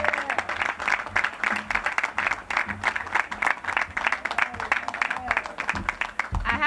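Crowd applause at an outdoor National Night Out community event, sustained dense clapping that stays steady and moderately loud throughout.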